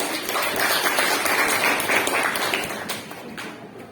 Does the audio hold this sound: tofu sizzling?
no